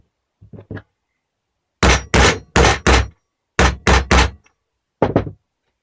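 Metal punch struck repeatedly with a hammer to cut an engine gasket: a few soft taps, then two loud clusters of four sharp bangs each, and one final hit, close and alone.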